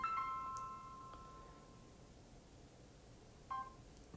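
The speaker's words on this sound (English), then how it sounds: "that's my phone went off for some reason." A phone goes off with faint, thin electronic tones, one short sequence at the start and another brief beep a few seconds later, over a quiet hiss.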